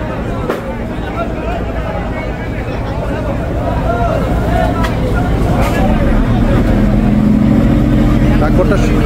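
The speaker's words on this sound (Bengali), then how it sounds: "টাগবোটটা সরে যাচ্ছে আস্তে আস্তে।" A powerful tugboat engine drones low and heavy beside a ferry as the tug slowly pulls away, its rumble building gradually, with a voice talking over it.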